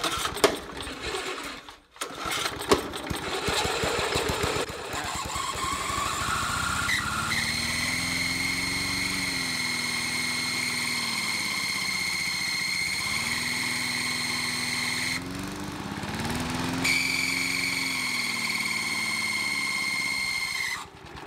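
A Briggs and Stratton Artisan 22-inch lawn mower engine with an auto choke runs steadily after a brief rough start, its loud, close buzzing hum wavering slightly in pitch as it idles, with no talk over it.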